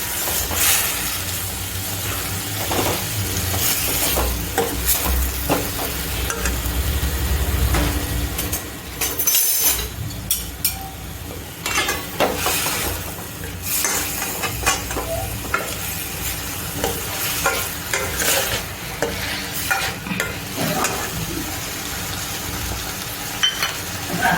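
Sweet potato farali snack stirred continuously in a pan makes loud, close sizzling and rhythmic scraping and rustling, steady throughout with one short pause partway through.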